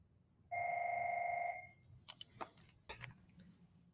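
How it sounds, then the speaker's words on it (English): A telephone gives one clear electronic ring tone lasting about a second, close and steady, followed by a few soft clicks and handling knocks. "I had a phone call."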